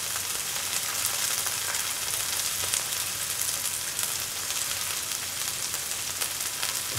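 Mace, cumin and fennel seeds sizzle in hot oil, giving a steady, dense crackling and hissing fry that stays even and close throughout, with no talking.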